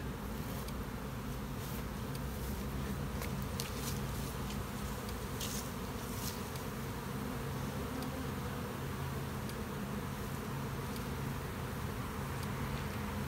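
Honey bees from overwintered nucs being split keep up a dense, steady buzz that fills the whole stretch, close and even, with a few louder passes and no speech.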